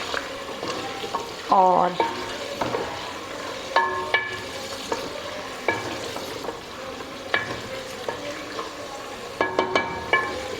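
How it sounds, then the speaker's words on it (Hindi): Meat for palak gosht fries and sizzles in a pot while being stirred, with repeated clinking scrapes of a spoon against metal over a steady frying hiss, close up; a brief word is spoken. "ये गोश्त फ्राई हो गया।"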